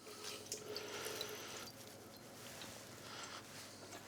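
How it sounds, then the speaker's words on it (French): Hands squeezing water out of blanched, refreshed vegetables, a faint soft trickle and drip of liquid falling into a sink, heard quietly and close with no voices. "On presse bien entre les mains afin d'enlever le maximum d'eau."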